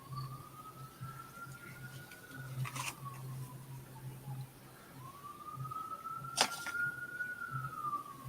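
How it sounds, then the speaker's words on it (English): Faint distant sirens wail in long rising and falling sweeps across a quiet background, with a couple of brief sharp noises cutting through and no talking. "Oh, I hear sirens."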